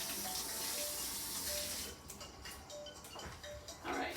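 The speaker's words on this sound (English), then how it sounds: "Rinse out this knife again." A kitchen tap runs steadily over a knife being rinsed while stuffed peppers are prepared. The water gushes loudly for about two seconds, then splashes unevenly and starts and stops.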